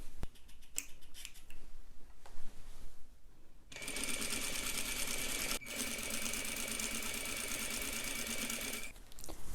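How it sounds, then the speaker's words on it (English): A sewing machine runs a continuous straight stitch along the edge of cotton fabric, a loud, steady whirring that follows a few seconds of quiet handling and clicks. "what I'm going to do is sew a 1/4 of an inch just as a guideline"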